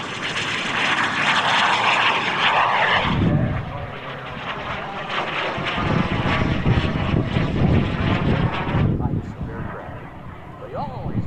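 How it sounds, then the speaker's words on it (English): A mini jet aircraft flies at the 2025 Dayton air show, its engine roaring loud and steady throughout, with a brief dip partway before the sustained whine resumes, and crowd chatter mixed underneath. "They always wanted to fly the mini jet, so now he's doing it in this one."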